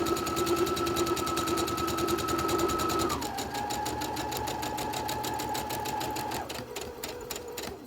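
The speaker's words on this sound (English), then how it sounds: "So we're going to back stitch twice again since we went over elastic." A sewing machine backstitches over elastic on a fabric face mask: a close, rapid, even mechanical chatter runs throughout, with the motor pitch stepping down twice as the stitching direction changes.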